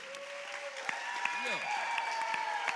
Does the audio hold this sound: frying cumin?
no